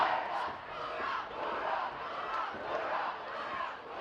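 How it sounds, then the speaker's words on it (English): High school football crowd at a Brookings Bobcats game against Sioux Falls Roosevelt, cheering and chanting in loud rhythmic swells that rise and fall, a steady dense roar of many voices throughout. "Crowd trying to get the Bobcats hyped here."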